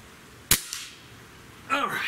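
A Benjamin Trail NP XL Magnum air rifle fires once, giving a sharp, loud crack, followed by a short ringing rise of sound as the pellet strikes a shotgun shell target outdoors.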